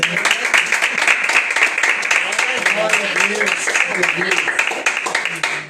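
Church congregation clapping together during an evening worship service, a dense steady patter of many hands close by, with voices and a few sung or spoken tones mixed in underneath.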